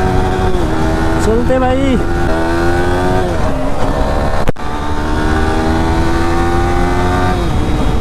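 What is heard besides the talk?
Yamaha R15M motorcycle engine revving during a wheelie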